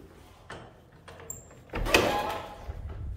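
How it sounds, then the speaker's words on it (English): A door in a UK character cottage, opening from a rear lobby toward a WC, clicks and rattles faintly before a louder, longer rush of handling noise as it swings open, close by in a quiet interior. "And then we have the door here which opens out"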